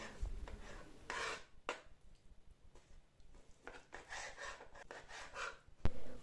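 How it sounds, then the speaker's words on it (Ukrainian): Close knife cuts on a board, a few uneven chopping strokes with rasping scrapes between them, fairly quiet, as skinned herring fillet is cut into cubes. "Я купила філе оселедця і обчистила шкурку верхню, яка була на ньому, і нарізаю на кубики."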